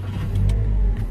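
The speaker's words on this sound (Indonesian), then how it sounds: "Koplingnya kita injak, kemudian kita start." A Daihatsu Terios with a manual gearbox cranks and fires up, its engine catching with a brief rising rev and then settling into a low idle rumble, close by and without talk.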